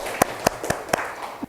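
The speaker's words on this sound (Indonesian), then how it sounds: "tepuk tangan untuk Budi ya." A class claps for a student in a steady beat of five crisp, evenly spaced claps, close and clear, with a short pause before the last one.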